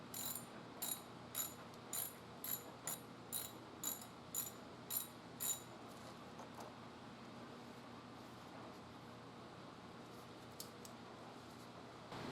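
Ratchet wrench undoing the two bolts holding the accelerator cable to an engine's valve cover, a quick series of about ten crisp, evenly spaced clicks followed by quieter fiddling with metal parts.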